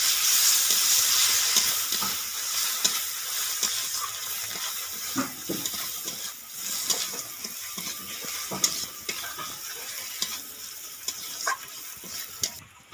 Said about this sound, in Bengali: আবারও ভালো করে নাড়িয়ে নিচ্ছি।